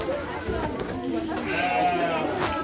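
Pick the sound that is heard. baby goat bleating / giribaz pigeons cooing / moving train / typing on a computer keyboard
baby goat bleating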